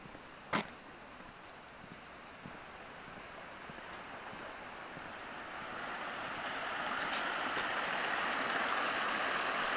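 Jennings Creek on the Appalachian Trail, flowing low beneath a road bridge, a faint steady rushing wash of water that swells slightly louder toward the end, with a couple of brief knocks early on.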